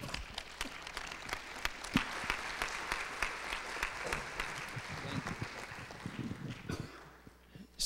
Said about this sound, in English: let's give a big applause for all the panelists here